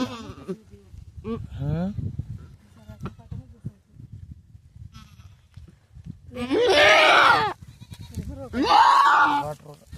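A goat giving birth on a farm lets out loud, strained bleats, two long cries standing out near the end, with quieter calls and people talking between them.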